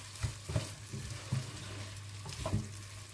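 Peppers sizzling in a frying pan while being stirred, steady frying hiss broken by about five soft scraping stir strokes, close and fairly quiet.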